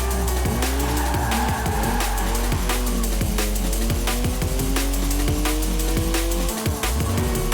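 A 3-litre twin-turbo straight-six sports car with 335 horsepower drifts in Forza Horizon 4, its tires squealing steadily over a loud, revving engine that rises and falls throughout, with no talk.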